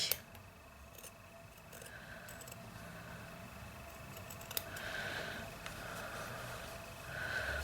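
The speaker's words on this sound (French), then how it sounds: "au niveau des arrondis, vous avez le droit de cranter" Scissors notch the curved seam allowances of fabric while a French seam is sewn for bloomers: a few faint, brief snipping cuts in a quiet room, with no talking.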